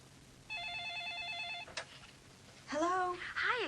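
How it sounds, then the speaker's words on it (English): A telephone bell rings in bursts for about a second in an audiobook scene, followed by a short click, then a voice speaks. "Suddenly, the phone rang."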